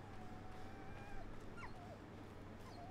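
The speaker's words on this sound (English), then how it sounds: "Why do I hear the dog crying?" A dog whimpers and cries softly in the horror video game Maid of Sker, with thin high whines repeating over a low steady background hum.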